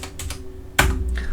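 Numbers and the Enter key tapped on a computer keyboard while drawing in SketchUp: a few light, quick clicks, then one louder, sharper keystroke near the end, close and alone.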